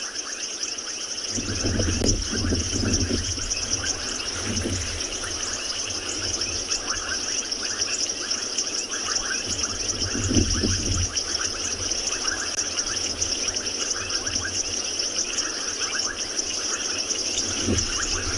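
Frogs and insects call together at night on a sunset safari at Tswalu, making a steady, layered chirping and buzzing chorus that stays moderately loud throughout, with a few low rumbles underneath.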